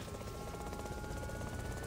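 A remote-controlled drone flying overhead gives a steady, close whirring buzz with a constant pitch and no pauses. No one speaks.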